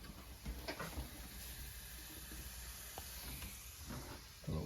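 Kielbasa with peppers and onions frying in a pan aboard a sailboat, a soft steady sizzle and hiss with a few faint clinks and stirring sounds, close but quiet, no talking.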